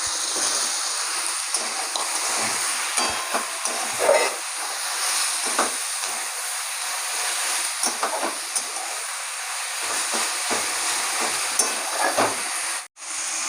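Onions and potatoes frying in oil in a home kitchen pan, giving a steady loud sizzling hiss that runs almost unbroken, with small spatters and stirring clicks and a brief dip near the end.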